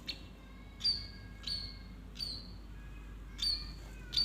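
Birds chirp beside a roadside, sharp high tweets coming in short repeated bursts about every second over a quiet low background hum.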